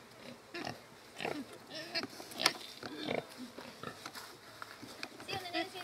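Pigs at a small farm let out scattered grunts and squeals, some close and some softer, mixed in with people talking nearby.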